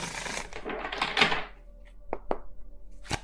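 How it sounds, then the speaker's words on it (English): Tarot cards are shuffled by hand, a soft riffling rustle followed by a few sharp taps and knocks of the deck against a surface. "I don't know why I want to shuffle so much,"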